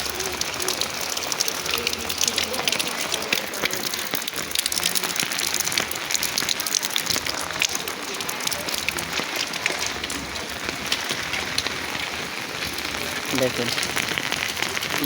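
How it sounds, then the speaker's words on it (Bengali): Heavy rain pours down in a dense, steady roar of drops on surfaces, filling the whole stretch, with a voice talking briefly over it. "কি পরিমাণ বৃষ্টি হচ্ছে"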